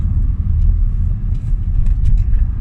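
Car pulling away on a road test after fixes for rough idle, long cranking and black smoke, a steady close low engine rumble and road roar running throughout with no talk.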